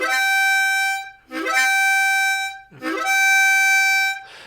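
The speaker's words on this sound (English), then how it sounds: "a glissando sounds like this" Harmonica in second position in G playing three sustained bluesy notes, each entered with a slide up into a target pitch, bright and close with short breaks between phrases.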